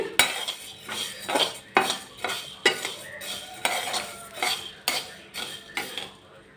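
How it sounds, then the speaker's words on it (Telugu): Coriander and fenugreek seeds roast dry in a pan while a spoon stirs them, giving a steady run of close, dry scraping and rattling strokes, about a dozen in a rhythmic pattern, with a faint sizzle underneath and no voices. "ధనియాలు వేగేటప్పుడే ఇందులో కొంచెం మెంతులేస్తున్నాను ఒక పెద్ద స్పూన్ ఉంటాయి కలుపుతా చక్కగా వేయించాలి"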